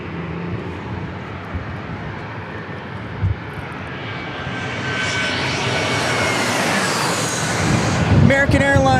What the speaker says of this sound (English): American Airlines flying overhead.